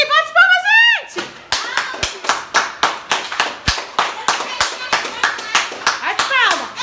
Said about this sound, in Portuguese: bate palmas, gente!